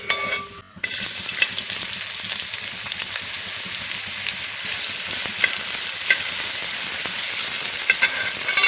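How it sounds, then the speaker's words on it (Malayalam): Vegetables and nuts fry in hot ghee for a vegetable biryani, giving a loud, continuous close-up sizzle with stirring scrapes after a brief quiet start. "നെയ്യ് ചൂടായിട്ടുണ്ട്. നമുക്ക് എല്ലാം വറുത്ത് പോരാം."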